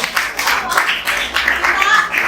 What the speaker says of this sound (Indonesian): Tepuk tangannya buat ibu.